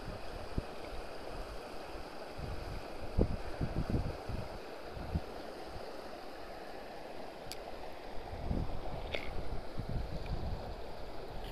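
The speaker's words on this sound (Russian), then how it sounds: "Ветер туда-сюда крутит." Gusty wind stirring around a tiny stream on a blustery day while fishing, a steady broadband rush with low thumping gusts against the microphone and faint trickling water underneath, no voices.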